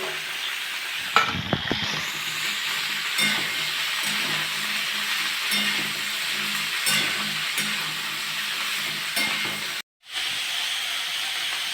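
Carrot, beetroot and drumstick pieces fry in a pan with a loud, steady sizzle and hiss, punctuated by intermittent stirring scrapes and an early clatter as the vegetables go in, heard close with no talk.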